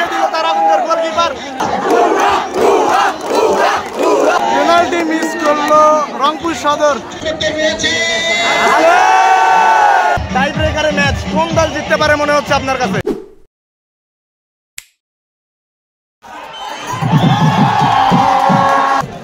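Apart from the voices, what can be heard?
football stadium crowd cheering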